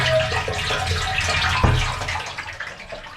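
A boatyard filler hose pours water into a boat's freshwater tank, a steady splashing, gurgling flow heard close by.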